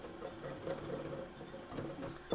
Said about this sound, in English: and just whisk that up